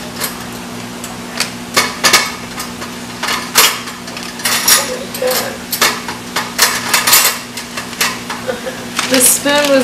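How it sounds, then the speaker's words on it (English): A spoon rattling and clinking against a dishwasher rack, a run of sharp metallic knocks and taps in irregular bursts, with a steady low hum in the background and occasional talk. "The spoon was like stuck in our little washer rack thing"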